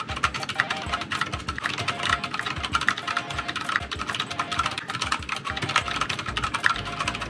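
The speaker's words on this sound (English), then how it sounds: "let's see how fast I type on the split keyboard versus a traditional one." Fast typing on a split keyboard, a rapid, close stream of clicking keystrokes that runs continuously, alone with no talk.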